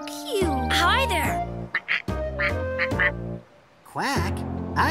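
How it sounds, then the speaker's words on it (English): Cartoon duckling just hatched from its egg gives a series of voiced quacks, loud and close, mixed with children's excited voices talking around it. "I know what kind of bird says quack."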